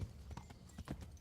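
Horse hooves galloping in a video game, quick soft irregular hoofbeats that are fairly faint and short.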